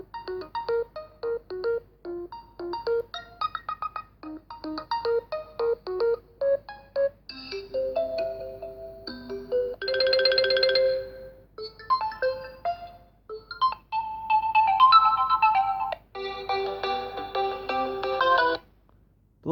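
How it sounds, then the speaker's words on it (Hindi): A series of electronic ringtones play one after another through a realme 6 phone's small speaker: melodic beeping tunes, chiming patterns and a buzzing tone, separated by brief pauses. "यहाँ से कुछ रिंगटोन्स को चलाते हैं।"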